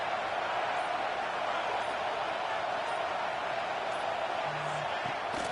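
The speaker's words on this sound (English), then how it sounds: "This crowd bringing the energy and noise early." A stadium crowd at a college football game between Oklahoma and Clemson roars as a dense, steady wall of cheering, heard at a distance and sustained without pause.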